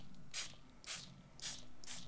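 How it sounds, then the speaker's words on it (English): Four short hissing spritzes of water from a spray bottle onto a shimmer-powder card background, evenly spaced and close, with quiet pauses between them. "I'm going to put a little bit of spray."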